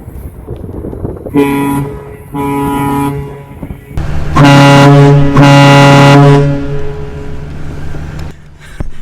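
A huge, deep cruise ship horn fitted to a truck blasts several times nearby: two short toots, then a long roaring blast, with engine noise and outdoor rumble between.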